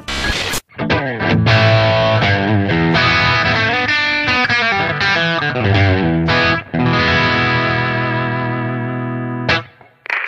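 An electric guitar plays a continuous, driven riff with sustained chords and single notes for about ten seconds, an MXR M169 Carbon Copy delay pedal switched to bypass, loud and close with no talking.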